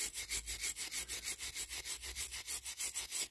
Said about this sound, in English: I wire brush this down first. That's what I normally do to get most of the rubbish off.